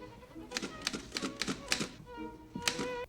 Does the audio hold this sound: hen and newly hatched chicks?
no